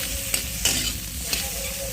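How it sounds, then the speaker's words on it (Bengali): Cinnamon and cloves lightly frying in a pan, a continuous close sizzle with a few soft scraping stirs and no talking. "দারচিনি আর লবঙ্গকে একটু হালকা করে ভেজে নিচ্ছি"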